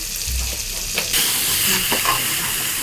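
Curry leaves and salt frying in hot oil for a mutton curry, a loud, close, continuous sizzle and crackle with a few stirring scrapes.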